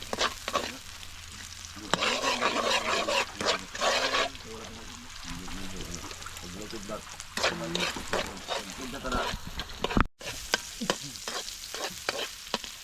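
Onion and garlic frying in a pan while being stirred, a steady close sizzle with scraping stirs, ingredients added for squid cooked on a fishing trip; a sharp clack near the end.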